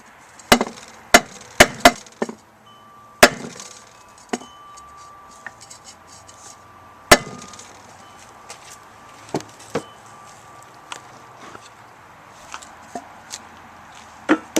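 Hammer blows on a 2x4 set against a scrap piece of 4-inch exhaust pipe, driving a bearing seal into a Dana 70 dually rear hub on a 1978 Dodge RV, sharp irregular strikes, close and loud, with quieter taps between.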